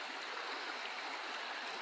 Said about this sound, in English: there's a creek running just maybe 20 yards out the right side out here.